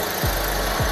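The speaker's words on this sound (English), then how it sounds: "When the deputy approached, Kerr was sitting on a riding lawnmower. But instead of stopping, he hit the throttle and tried to flee" A riding lawnmower engine revs hard as the throttle is opened, a steady loud mechanical drone with two short low surges rising through it, no voices.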